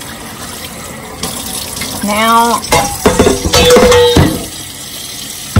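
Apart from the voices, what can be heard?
tap water running into a bowl to soak calf fries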